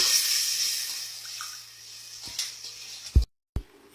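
Water trickles and splashes into a cooking pot for Saudi kabsa rice, a steady soft pour running several seconds and then breaking off with a couple of clunks.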